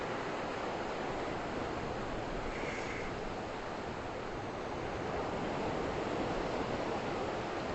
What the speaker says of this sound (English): Good morning from Kovalam Beach in Kerala, South India.